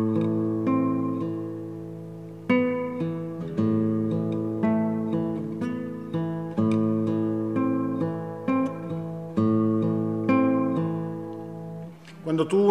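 Classical guitar playing a contrapuntal passage from Recuerdos de la Alhambra, clear plucked notes moving in two voices with a sustained accompaniment, close and unaccompanied, ending with a short scrape.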